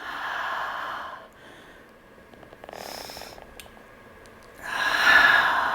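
Strong, breathy exhales during an advanced reformer Pilates exercise, two clear loud breaths separated by quieter breathing and faint rustling, close to the microphone with no talk.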